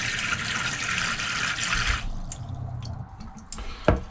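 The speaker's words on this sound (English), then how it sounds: "we've got water coming through to the shower unit" Running water sprays steadily through a caravan shower unit for about two seconds, then cuts off, leaving scattered drips and a final splash.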